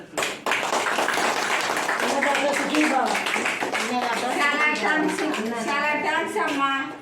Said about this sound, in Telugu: క్లాప్స్ పెట్టి